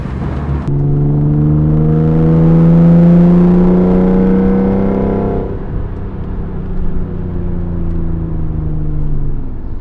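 A Nissan 300ZX engine and loud exhaust roar up steeply from a sudden start, hold a rising droning note for several seconds, then drop back to a rumbling throb, close and dominant with no talk.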